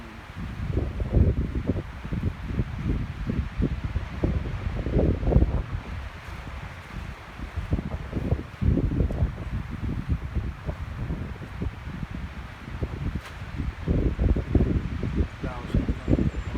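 A Pacific Northwest wind storm in Washington State roars through trees, rustling leaves in a continuous, loud rush that surges in repeated gusts throughout.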